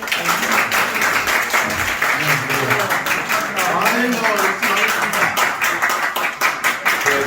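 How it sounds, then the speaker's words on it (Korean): Middle-aged former classmates applaud at a high school alumni reunion, a dense steady round of clapping that carries on throughout, with voices and a speaker on a microphone heard beneath it. "박수 한번 주십시오."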